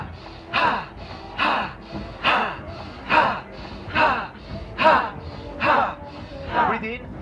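Forceful, rhythmic breaths in a dynamic breathing exercise, about eight loud rushing exhalations at roughly one per second, each swelling and fading, close to the listener.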